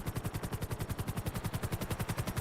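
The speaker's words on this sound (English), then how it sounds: "I'm hearing a lot of gunshots, though." Rapid automatic gunfire in the video game GTA 5, an unbroken rattling burst of evenly spaced shots that keeps going without a pause.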